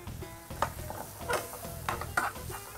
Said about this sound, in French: Voilà, mélangez le tout.